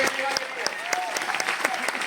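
A seated audience claps steadily at a Hindi-language motivational event about work from home; the dense, even applause runs the whole short stretch under a faint voice.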